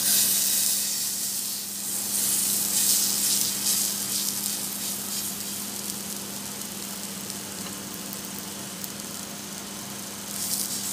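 Ube hotcake batter fries in melted margarine in a pan, giving off a steady, close hissing sizzle that holds for the whole stretch with slight swells in intensity.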